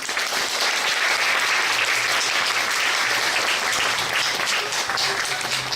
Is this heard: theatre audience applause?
yes